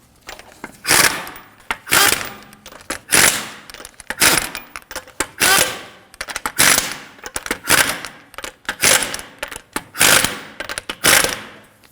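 Lug nuts being snugged down on a 2013-2015 Subaru Crosstrek Hybrid wheel, a series of loud rattling ratchet or impact bursts with short pauses between them, close by and with no speech.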